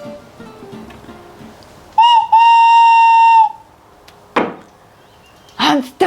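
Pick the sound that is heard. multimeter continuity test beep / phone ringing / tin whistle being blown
tin whistle being blown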